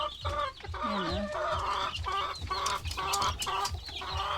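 Hens clucking in a farmyard, a run of close, repeated throaty clucks and short rising calls in a steady chattering rhythm, the kind of vocalizing they make just before laying eggs.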